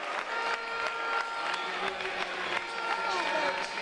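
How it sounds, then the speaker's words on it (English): Crowd at a 4x400 track relay race at Penn Relays claps and cheers as an injured anchor leg finishes, continuous dense clapping with crowd noise throughout, fairly loud and sustained. "you can hear the crowd clapping behind us."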